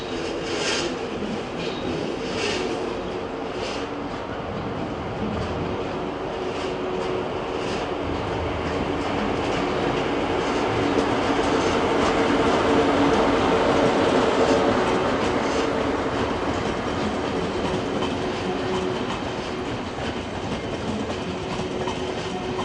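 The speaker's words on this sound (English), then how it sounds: "I still don't know how to tell the difference between an ICE1 and an ICE2, but it's one of those, the older ICE sets" An older ICE high-speed train, an ICE1 or ICE2 set, rolls into München Hbf with a loud, continuous rumble and wheel noise, swelling slightly in the middle as it passes close by.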